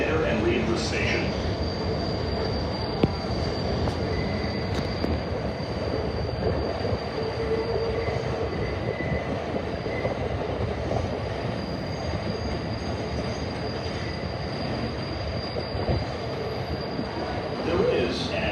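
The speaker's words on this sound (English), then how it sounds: "There is an Express 7 train to Flushing Main Street. Approaching the station" An Express 7 subway train approaches Queensboro Plaza station, rolling in with a steady loud rumble and a sustained high wheel squeal across the whole stretch, the platform filled with its noise.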